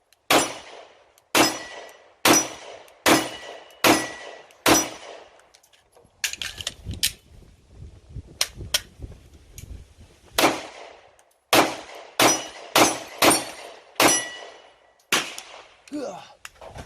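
Mossberg MC1 SC pistol fired at a range: sharp, concussive gunshots in quick regular strings, about six shots, a pause with faint handling noise and a few lighter clicks, then another rapid string of six more, loud and close.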